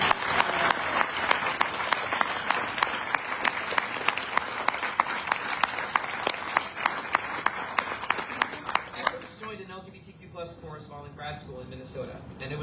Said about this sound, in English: can we please have a round of applause for the Buffalo Gay Men's Chorus